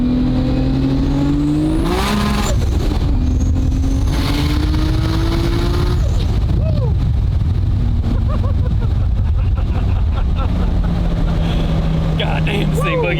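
A 1200 hp Toyota Supra with a 3.2L Dart 2JZ engine accelerates hard from inside the car, its loud engine note climbing through rising revs with gear-change breaks, while excited voices shout over it.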